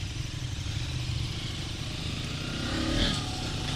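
A 2022 KTM 200 Duke motorcycle engine droning steadily at full throttle, with constant buzzing and wind noise, rising slightly near the end.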